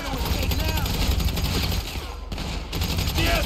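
A large explosion in the video game GTA 5 lands amid dense, continuous gunfire and loud game-action noise, with a brief dip before the roar resumes.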